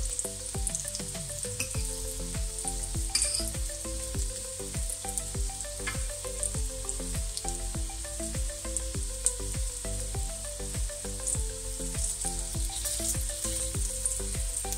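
Meatballs fry in a pan, a loud, steady sizzle that runs without pause, with occasional soft scrapes and shifts as they are turned to brown on every side.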